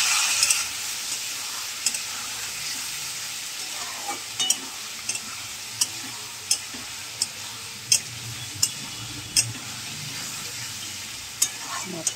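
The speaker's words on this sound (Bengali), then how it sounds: "এবার এর মধ্যে একটু জল দেবো, দিয়ে মশলাটাকে এবারে কষাবো" Masala of tomato, chilli powder, salt and turmeric with a splash of water sautéing in a pan, a soft steady sizzle broken by a series of regular sharp ticks from stirring against the pan.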